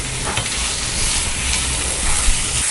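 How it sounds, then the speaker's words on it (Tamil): Tomatoes sautéing in a pan for veg biryani give a loud, dense sizzle and hiss that runs without a break, with faint stirring scrapes underneath. There is no talking. "தக்காளி நல்லா வதங்கிடுச்சு."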